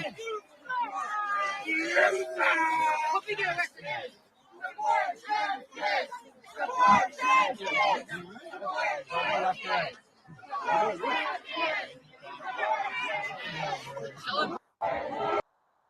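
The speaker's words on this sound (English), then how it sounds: "We had to walk through this angry mob." An angry protest crowd shouts and chants in loud, overlapping bursts, with many voices yelling close by in waves broken by brief pauses.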